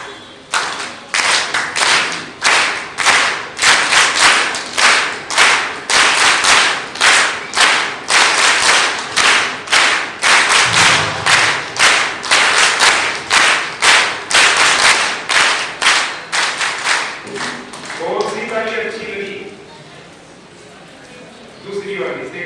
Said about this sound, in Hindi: अभी फिर से तालियां बजाना है, लेकिन जैसे मैं बजाऊंगा उसके साथ जुड़ते हुए बजाना